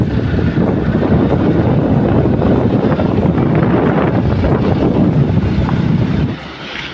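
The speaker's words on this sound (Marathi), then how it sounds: "हे आपल्या पावराचं पाणी आणि आपल्या गेटचं पाणी सोडलं आहे" Water roars from the opened gates of a dam in the rainy season, a loud, continuous rushing wash with heavy wind buffeting the microphone, easing slightly at the very end.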